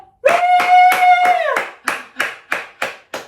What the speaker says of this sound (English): If you wish to vote Derek, give a big cheer!